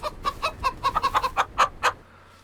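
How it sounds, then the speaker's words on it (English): Farm chickens in Farming Simulator 25 cluck in a quick, uneven series of short calls, close and clear over a quiet background. "let's go ahead and take a look at our chickens."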